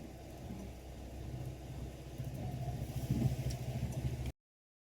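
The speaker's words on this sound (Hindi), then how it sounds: "भाई, ट्रैफिक जैम है।" Cars crawl in a traffic jam on the mountain road to Solang Valley near Manali, a continuous low engine rumble with idling and light revving that grows louder toward the end, heard without talk.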